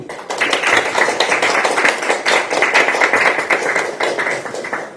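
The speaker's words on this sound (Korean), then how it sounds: "여기 계신 분들께 이동현 후보를 응원하는 박수를 부탁드립니다." Crowd clapping at a Korean political election rally, steady dense applause filling the whole stretch, loud and close with no break.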